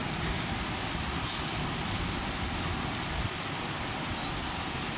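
Steady daytime rain pours down outdoors on a street where a cycle rickshaw passes, a dense continuous hiss close by and unbroken throughout, with no voices.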